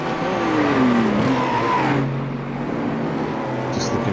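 A BMW race car engine in the sim racing game iRacing, racing at Montreal, revs up through gear changes with rising and falling whine, loud and steady, under a commentator's voice.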